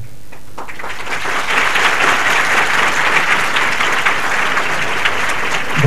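An audience at an educational event applauds, a loud sustained wash of clapping that builds after a brief start and holds steady to the end, no talk over it.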